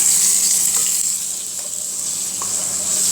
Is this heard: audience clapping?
no